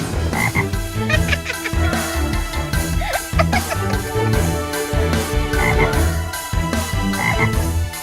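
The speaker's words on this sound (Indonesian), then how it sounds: "Kodok." A cartoon frog croaks repeatedly over a continuous bed of music, the calls coming in steady bursts through the whole stretch.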